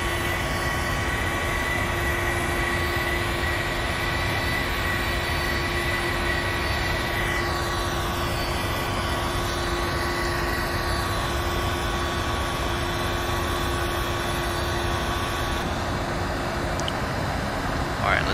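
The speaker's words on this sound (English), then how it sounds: "cut the engine sounds." Steady simulated jet engine drone from a Boeing 737-700 in Microsoft Flight Simulator X fills the cabin during a climb on a Southwest flight from Baltimore to Jacksonville, unchanging and loud throughout.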